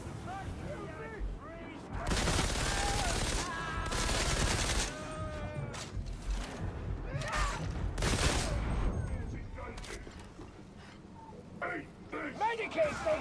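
Rapid gunfire from Warhammer 40,000: Darktide, dense bursts and volleys rattling loudly from about two seconds on, with sustained automatic fire and scattered shots mixed with game effects and voices.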